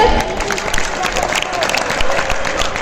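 An audience claps at a farewell event for transferred teachers, steady close applause running throughout with a voice briefly over it.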